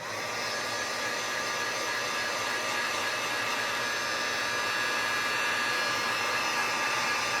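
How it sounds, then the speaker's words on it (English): A Wagner heat gun blows a steady, loud whooshing stream of hot air to dry paint on a wreath rail, holding an even roar throughout. "let me get my heat gun, and I'm just using a Wagner heat gun I got from either Home Depot or Lowe's."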